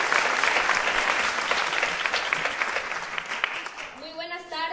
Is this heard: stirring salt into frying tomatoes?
no